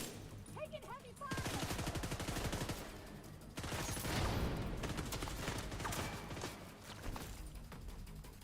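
Sustained bursts of rapid automatic gunfire in a video game, loud and dense, with a brief pause before another heavy volley and scattered shots trailing off.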